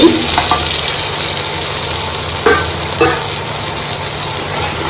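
Mutton with masala sautéing for Ambur mutton biryani, a continuous loud sizzle and hiss with a few sharp scrapes of stirring.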